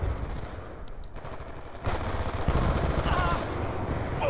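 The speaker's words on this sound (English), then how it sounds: "Who the hell is shooting me?" Rapid automatic gunfire in Call of Duty: Black Ops 2 rattles through a game mix, growing louder partway through and continuing in dense bursts.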